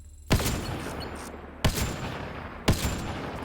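Three loud, sharp gunshots from enemies in the game Mass Effect Andromeda, evenly spaced about a second apart, each a sudden crack with a short rumbling tail over steady background noise.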